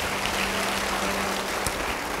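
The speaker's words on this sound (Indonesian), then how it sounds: "Beri tepuk tangan bagi dia." Church congregation applauding during a sermon, a dense, even roar of clapping filling the space and holding steady throughout.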